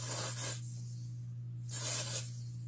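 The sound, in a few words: spraying a Sephora humidity face spray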